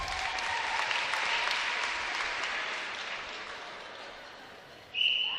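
Sustained applause from a large crowd at an England v Scotland match, steady and dense for about five seconds before tapering slightly, with a brief sharper burst near the end.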